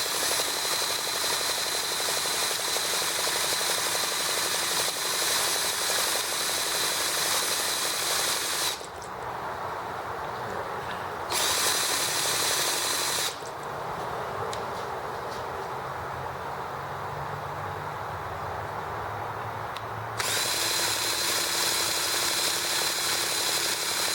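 An EM2 engine is cranked over on its first start with a little air in the fuel lines, giving a loud, continuous mechanical whirring that drops and shifts briefly a few times before surging back.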